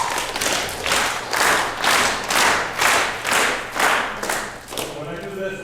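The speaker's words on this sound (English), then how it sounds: "I want you to help me with a rhythm type clap" An audience claps a steady rhythm together in a large hall, about eight loud pulsing bursts at an even beat, with a low background hum and a brief voice at the end.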